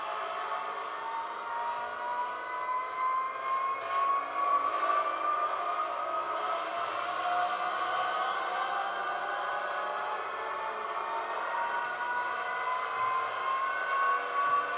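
Continuous whining car engine drone from a racing video game played on an iPhone 5, with rising pitch sweeps like revving through gears at speed, steady and loud without any talking.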